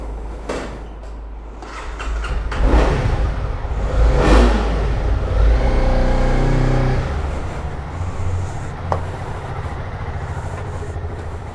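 A Honda CB300R motorcycle starts up and revs, with engine bursts rising and falling over a rough idle rumble, loud and close, settling back to a steady idle.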